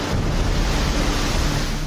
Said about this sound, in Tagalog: hinampas na ng malalakas na alon